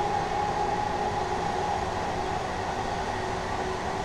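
Class 387 Gatwick Express electric train running on a London rail route in Train Sim World 2, a steady loud rolling drone with a faint whine held throughout, no talk.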